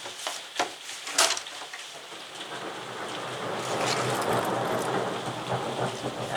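A thunderstorm with steady, hissing rain that swells louder midway, scattered drops and a few sharp cracks near the start, heard from indoors.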